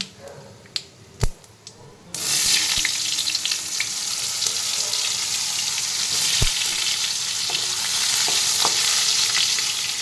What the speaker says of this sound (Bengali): ফোড়নটা ভাজা ভাজা হয়ে গেছে, এবারে আমি আলুগুলো দিয়ে দেব।